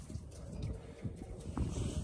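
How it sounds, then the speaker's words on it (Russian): Strong wind buffets the microphone with a constant low rumble and gusty thumps. "О, ветер какой сильный."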